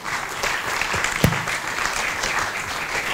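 A round of audience applause for a hackathon team at a FOSSASIA award ceremony, steady dense clapping throughout with no clear speech over it.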